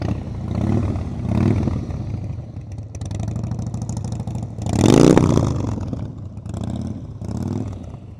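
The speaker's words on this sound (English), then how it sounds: "Throttle blipping. See how the bike is jumping?" A motorcycle's engine is blipped repeatedly during slow-speed riding practice, with several rising revs and drops back to a lower rumble, the loudest surge midway, heard close and without talk.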